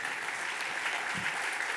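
A church congregation applauds in a dense, continuous wash of clapping that holds steady at even volume for the whole short stretch.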